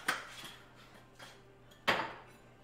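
A kitchen knife is pulled out amid clattering cutlery, three sharp metallic knocks and clinks spaced over a couple of seconds, close and fairly loud against a quiet room.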